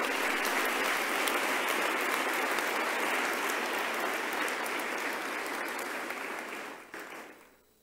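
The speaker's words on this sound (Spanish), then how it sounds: "Denle un aplauso al Rey bendito." A church congregation applauds during a sermon, a long even wash of clapping from many hands that holds steady, then thins and fades out over the final second.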